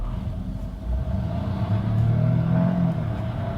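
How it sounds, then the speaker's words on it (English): A Lynk & Co 01 plug-in hybrid pulling away hard from traffic lights with combustion engine and electric drive together, a low continuous engine rumble that swells and climbs in pitch as it accelerates, heard from inside the cabin without speech. "We can also do power acceleration now from the traffic lights."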